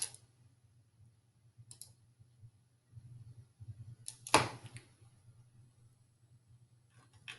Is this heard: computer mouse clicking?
yes